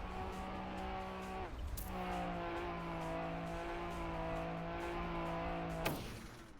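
Engine note of a car driven in Trackmania, a steady harmonic whine that rises and falls through gear shifts, with two sharp breaks where the tone resets, loud and continuous with no talking.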